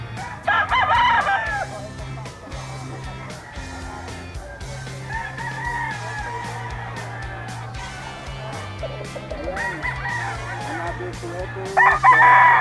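A yellow-legged gamefowl rooster crows repeatedly at a gamefowl farm, its bursts loud and near, with other birds and low background chatter throughout.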